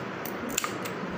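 Scissors cut through craft material from a mystery box DIY project, a couple of quick, close snips against quiet background.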